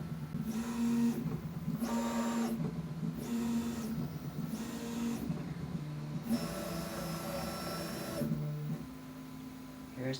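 A 3D printer prints a test strip, its stepper motors whining in a steady hum broken by regular pitch shifts and a rhythmic swell about every second, with faint talk in the background.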